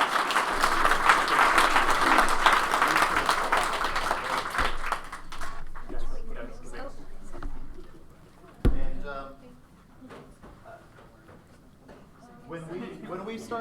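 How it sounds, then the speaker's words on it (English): An audience at a hackathon project demo day breaks into a full round of applause, dense clapping for about five seconds that then fades out, followed by scattered murmurs and a voice speaking. "let's give them a big round of applause."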